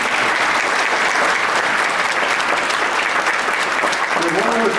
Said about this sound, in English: Another round of applause to all of those award recipients.